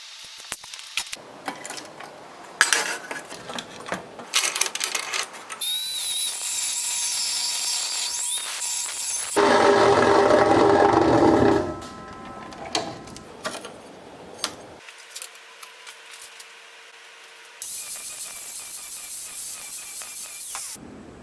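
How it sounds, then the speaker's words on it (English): Steel flat bar is cut into sections for a truck roof rack, with bursts of loud power cutting between clattering handling, ticks and pauses, some segments harsh and sustained, others brief and mechanical. "I'm going to cut some sections out of this 3rd piece"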